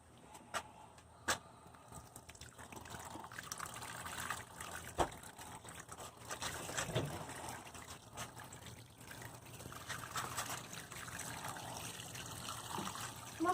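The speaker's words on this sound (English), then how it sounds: "it's going to soak in all this new water" Water trickles and splashes quietly into loose soil around a mango plant in a large container, a soft continuous pour with small gurgles and occasional drips, close by with no talking.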